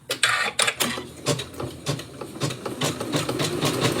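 An embroidery sewing machine runs a straight stitch at about 800 stitches a minute, giving a quick, steady mechanical chatter of needle strikes, close and moderately quiet, with some irregular clicks at the start.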